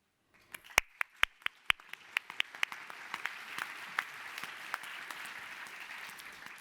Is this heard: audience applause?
yes